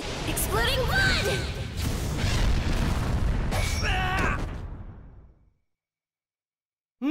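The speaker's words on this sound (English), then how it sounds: "Blood demon art! Exploding blood!" In the Demon Slayer Hinokami Chronicles video game, an exploding blood demon art attack bursts with loud booms and crackling blasts over a few seconds alongside a shouting character voice, then cuts to silence.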